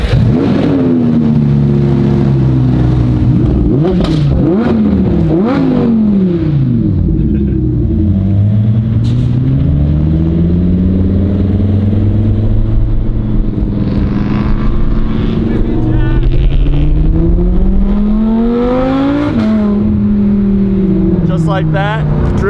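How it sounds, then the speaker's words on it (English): Nissan R34 GT-R cars driving in convoy through the Pacific Northwest, loud engines rising and falling through repeated revs and gear changes, with deep exhaust rumble close by and speech over it. "We're currently following some of the coolest R34 GT-Rs in all the Pacific Northwest."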